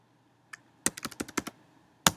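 A password being typed on a computer keyboard: one early tap, then a quick burst of about seven crisp, close keystrokes, a pause, and a final sharp key press.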